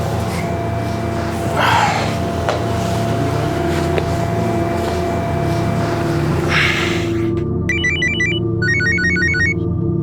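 Incoming call ringtone on a phone, an electronic repeating melodic tone that starts near the end after a low droning background with a couple of breathy bursts.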